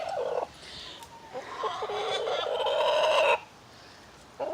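Backyard chickens in a food-forest garden give a couple of drawn-out, loud clucking calls nearby, the second long and rising, with quiet gaps between and no talk.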